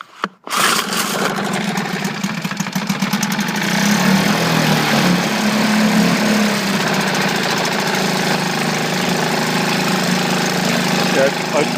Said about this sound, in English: the engine is running very nicely, as you can see